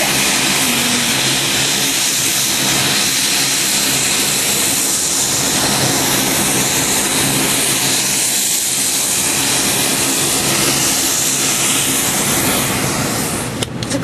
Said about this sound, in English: One of the planes was actually coming in as I was driving up to the airport